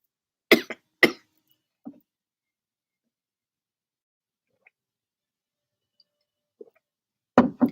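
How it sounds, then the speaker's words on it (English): Two sharp coughs close together, then a softer one, then quiet before another pair of coughs at the end. No speech. "I'm coughing."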